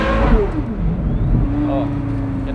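A Porsche Carrera GT exhaust revs briefly, a sharp engine rise then falling pitch, heard close with a voice talking alongside.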